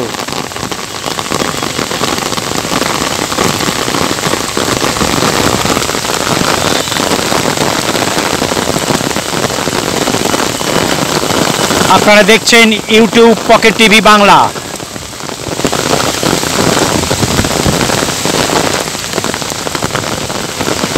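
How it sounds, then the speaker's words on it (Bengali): A heavy downpour drums loudly and continuously on umbrellas and ground at an outdoor college football match in Kolkata, with gusting wind; someone talks over the rain briefly midway. "মুষলধারে বৃষ্টি এসে গেল"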